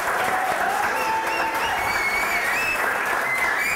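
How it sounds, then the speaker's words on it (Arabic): An audience at a fitness and exercise session in a sports club claps and cheers together, a dense, steady burst of applause that fills the whole stretch with no one speaking over it. "صفقوا لهم"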